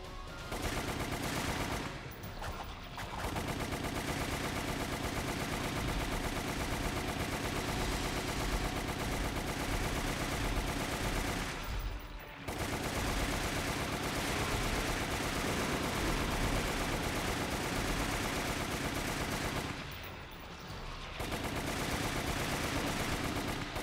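Rapid gunfire from Resident Evil The Umbrella Chronicles pours out in dense, loud bursts almost without a break. It drops away briefly three times and then resumes at full strength.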